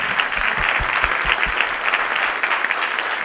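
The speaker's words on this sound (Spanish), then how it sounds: "Lo recibimos nuevamente con un fuerte aplauso." An audience gives loud, steady applause to welcome the speaker, Guillermo Grimoldi, at a municipal talk on spring gardens. The clapping is dense and continuous, with a few sharper nearby claps early on.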